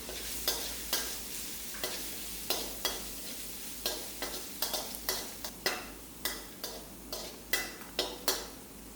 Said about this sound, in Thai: นำกระเทียมที่เราโขลกไว้นะครับ ลงไปเจียวจนหอมก่อนนะครับ